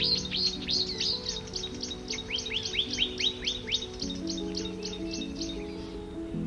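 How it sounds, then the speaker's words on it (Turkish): A long-tailed widowbird gives a rapid series of repeated, sharp descending chirps, loud and close, over a low steady hum. "Uzun kuyruklu dul kuşu."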